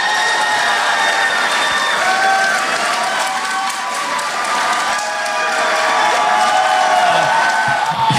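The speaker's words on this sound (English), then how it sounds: "Give this little guy a little bit of applause." An audience at a comedy show applauds for a comedian, a dense sustained clapping with some cheering that stays loud throughout.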